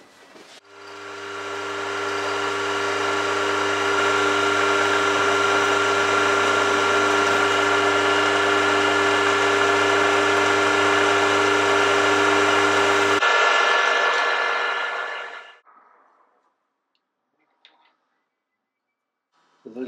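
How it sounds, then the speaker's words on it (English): A machine drill bores 5mm tapping holes in metal for a die holder, its motor running a steady, loud, tonal whir for about thirteen seconds before it shuts off and winds down, followed by faint handling noises. "need to drill the tapping sides for 5mm"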